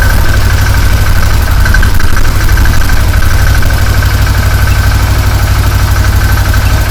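A Massimo Militia 1000 UTV engine with a noisy crank sensor signal idles steadily and close by, a constant low rumble with a faint whine above it and no voices.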